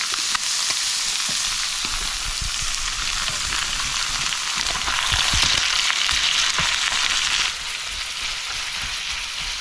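Ground beef fries in a pan with a steady, close, bright hiss and crackle, broken by a few scraping stirs, the sizzle lasting throughout and easing slightly near the end.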